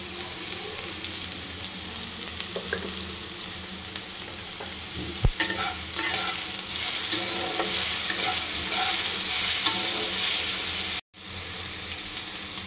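Salted potatoes and onion fry together in a pan with a continuous close sizzle, broken by stirring scrapes and a sharp knock midway, then cutting out briefly near the end.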